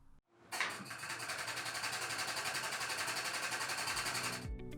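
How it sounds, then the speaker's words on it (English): An Elcometer Kara double diaphragm pump runs dry, without fluid, producing a steady, fast, rhythmic pneumatic chugging of even pulses for about four seconds, close and loud, before it cuts off abruptly. "The pump should now start turning over."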